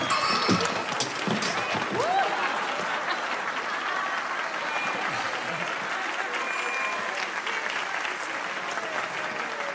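A crowd claps for Noel Rosa, the samba philosopher, at a tribute screening, a broad wash of applause that fades gradually, with a few louder claps and some murmuring mixed in near the start.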